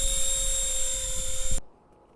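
A remote-controlled EC 145 model helicopter hums with a loud, steady high-pitched rotor and motor whine as it flies and sets down, then the sound cuts off abruptly into near silence.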